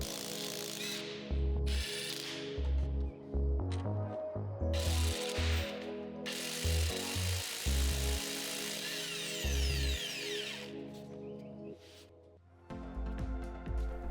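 A big impact wrench breaks loose and spins off a car's harmonic balancer center nut on a worn 300,000+ km engine, loud repeated bursts of rapid hammering with a steady mechanical hum between them.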